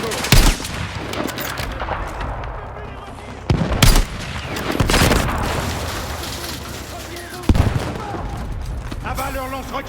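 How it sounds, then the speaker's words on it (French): Gunfire and explosive bursts in the Battlefield 6 campaign on PC: sharp loud shots and booms at irregular intervals over continuous combat rumble, with shouted voices in between. "Lance-roquette, Gecko. Sur la structure. Il tire encore, Gecko."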